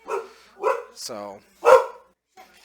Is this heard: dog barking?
yes